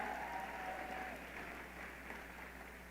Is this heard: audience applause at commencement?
yes